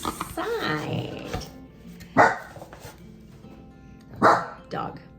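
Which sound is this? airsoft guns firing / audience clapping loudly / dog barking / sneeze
dog barking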